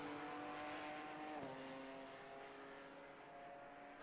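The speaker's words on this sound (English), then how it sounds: "the noises of the GT4s are quite fun." GT4 race cars in the Assetto Corsa Competizione racing game drone steadily at high revs, with a sustained engine tone that shifts pitch partway through and a faint, continuous, buzzing quality and no voices.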